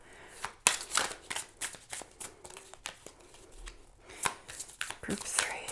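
Tarot cards are shuffled for a pick-a-card reading in a series of close, crisp riffling bursts and slaps, with faint talk in the background.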